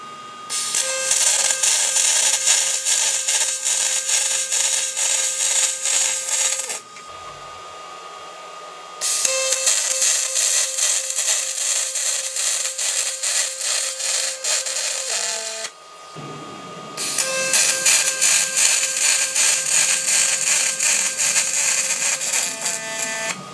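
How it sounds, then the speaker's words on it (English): MIG welding with a YesWelder DP200 dual pulse welder: three long stretches of steady, loud crackling buzz from the arc, each broken off by a brief pause. "these are going to be the first actual welds with the DP200 from YesWelder, and yeah, let's get to welding"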